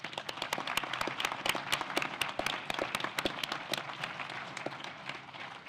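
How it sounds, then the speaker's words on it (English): An audience at a city candidate forum claps for several seconds, a dense patter of many hands that holds fairly steady and then thins a little toward the end. No one speaks over it. "Would you please give them a round of applause?"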